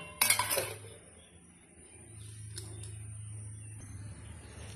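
A metal lid is set down on a cooking pot of prawn and taro curry, a sharp clink followed by soft settling rattles, then a low steady hum from the kitchen.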